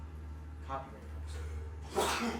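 A single sharp sneeze bursts out near the end, close and fairly loud, following a quieter snort-like breath earlier, with a steady low hum beneath and people talking around it.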